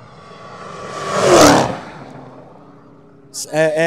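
A Lamborghini Aventador SVJ passes at full throttle in a drag race, a rising whoosh of engine roar that peaks close by and then fades away, followed by a brief voice at the end.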